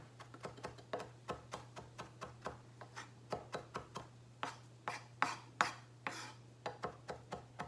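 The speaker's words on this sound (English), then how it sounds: "I'm gonna keep on chopping this cilantro up" A kitchen knife finely minces cilantro for guacamole, giving a close, steady run of crisp, rapid chops over a low constant hum, with no voices.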